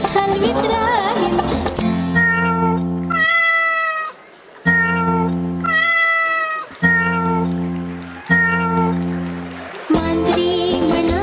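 Sustained, tonal cat-like meows voiced by children in a pre-primary stage play at an annual social day, long and loud in a repeated sung pattern, likely a voice imitating a cat.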